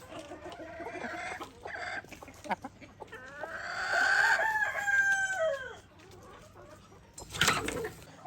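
Chickens at feeding time cluck and murmur nearby, then a rooster lets out a long, loud crow, followed by a short sharp squawk.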